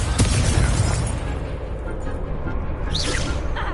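Confringo, the blasting curse in Hogwarts Legacy, sets off a loud, dense explosive burst that rumbles continuously for several seconds, with a brief whooshing sweep near the end.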